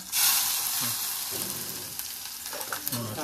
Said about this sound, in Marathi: मस्त कांदा परतवून घ्यायचा।